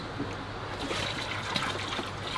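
Water trickles steadily from a running Aquaforte solar pond heater, a continuous, close, hissing splash with no voices over it.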